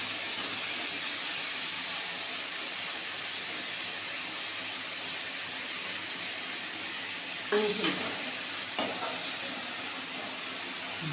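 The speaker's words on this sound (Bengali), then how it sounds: "আলুটা একটু ভাজা ভাজা হলে তারপরে আমি আলুটা নামিয়ে ফেলব।" Potato pieces with a little turmeric fry in a pan with a constant, even hiss and sizzle, broken near the end by a couple of brief stirring knocks.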